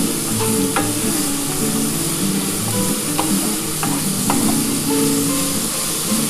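Onion and garlic sizzle loudly in a hot pan while being stirred, a steady close crackle broken by several sharp spatula scrapes and taps.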